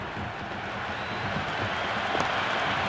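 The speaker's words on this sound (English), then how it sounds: "It's evident and ever so audible that the crowd is at near bursting point at today's play." Crowd noise at a cricket match in a video game, a steady dense roar of spectators with faint applause-like texture, continuous and fairly loud throughout.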